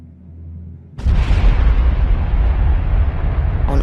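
Massive rumbling explosions of spacecraft engines as a sci-fi sound effect: after a quiet low hum, a sudden loud blast erupts and rolls on as a sustained, roaring thunder of detonations.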